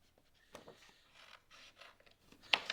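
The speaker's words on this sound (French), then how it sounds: "Je prends les ciseaux et je découpe mon hexagone." Close, quiet snipping and rasping of small scissors cutting a hexagon out of paper, a few soft cuts ending in one sharper snip.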